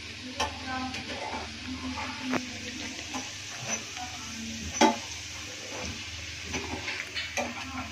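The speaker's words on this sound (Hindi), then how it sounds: "शैलो फ्राई कर रहे हैं हम इनको, डीप नहीं कर रहे।" Chicken ban paratha shallow-frying in oil in a pan, giving a steady close sizzle with occasional sharp ticks and small pops as the pieces are stirred and turned, with no talk over it.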